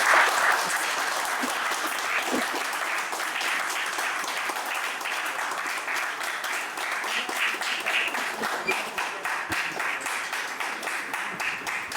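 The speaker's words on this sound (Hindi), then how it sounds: "तालियों से उनका अभिनंदन करें" A standing audience at a literary celebration of an author's fifty years of writing gives long, steady applause, many hands clapping together in a continuous, full roar that holds its level throughout.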